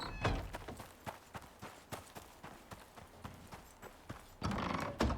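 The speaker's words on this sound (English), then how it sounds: "Let's go check on our horse." Horse hooves clip-clopping in a steady run in the survival game Icarus, a series of sharp near thuds with brief louder noise near the end; no clear whinny stands out.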